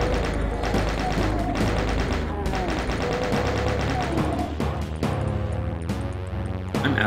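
Rapid, dense gunfire and explosions from the Doom game fill the whole stretch, loud and continuous, with crashing impacts layered over a heavy low rumble.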